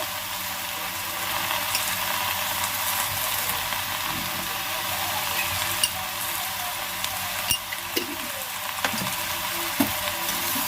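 Food fries in oil in a kadai with salt added, a continuous crackling sizzle broken by occasional sharp clicks and scrapes of a spatula stirring against the metal pan.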